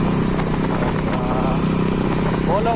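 A KTM motorcycle being ridden, its engine giving a steady, close, rumbling drone throughout with a voice talking over it.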